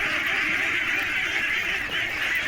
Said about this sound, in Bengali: মোটামুটি এখানে 200-250টা মনে হয় হাঁস আছে